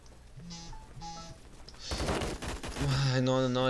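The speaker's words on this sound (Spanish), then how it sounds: "ya me están rellenando de disparos" Rapid bursts of Roblox gunfire rattle out in quick succession, loud and close, with a couple of short electronic tones before them.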